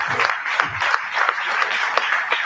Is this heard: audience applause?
yes